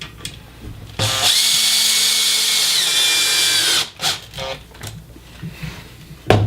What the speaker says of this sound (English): and install a deck screw